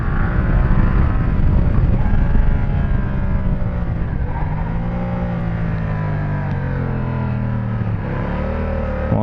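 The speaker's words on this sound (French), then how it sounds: "il y a un sacré frein moteur" Yamaha Tracer 700 (MT-07-based) motorcycle engine braking, a steady loud droning engine note with falling and wavering pitch as the revs drop, continuous and close throughout with no talk.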